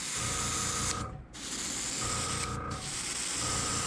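Airbrush hiss spraying black stripes onto a topwater popper fishing lure, a steady close airy spray broken by two short pauses where the trigger lets off.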